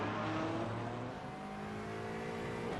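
Porsche GT4 race cars run on a circuit, a silver one closing on a green one, their engines producing a steady, sustained roar with shifting revving tones, heard at moderate distance with no talk.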